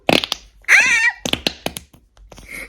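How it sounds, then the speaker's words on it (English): Slime putty pressed in a container produces squelchy, fart-like squeaks and pops, several brief bursts and one longer drawn-out squelch, loud and close with no voices. "Let's put it back in so we can make fart noises."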